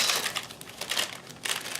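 Plastic bag crinkling as an item, a packaged Kenmore monogrammer part, is worked out of it: bursts of sharp rustling and crackling in uneven pulses, close and moderately loud, with no talk.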